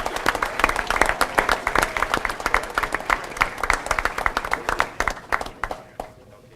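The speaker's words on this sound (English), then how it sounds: "Round of applause for Shore Middle School's team, please." Applause at a school board meeting for a middle school team, lively clapping from a modest crowd with individual claps audible, thinning out and fading near the end.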